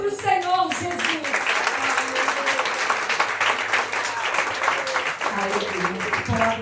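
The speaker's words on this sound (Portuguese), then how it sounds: "As palmas para o Senhor Jesus" A church congregation at a prayer-circle consecration service applauds in a steady wash of clapping that runs the whole stretch, while a preacher's voice speaks over it at the start and again near the end.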